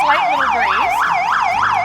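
Loud, close emergency sirens wail in a fast, repeating up-and-down pattern as vehicles pass during the 2019 Independence Day parade in downtown Ketchikan, with steady street rumble underneath and no talking.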